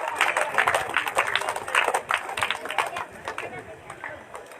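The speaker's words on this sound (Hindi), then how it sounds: "ताली बजती रहनी चाहिए" Crowd clapping at a state-level T-20 cricket final award ceremony, a dense, continuous patter of many hands that rises and slowly eases off, with a busy outdoor hubbub underneath.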